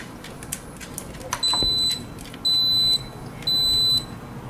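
An Instant Pot air fryer lid signals the end of cooking with three evenly spaced, clear high electronic beeps, each lasting about half a second, over faint kitchen background noise.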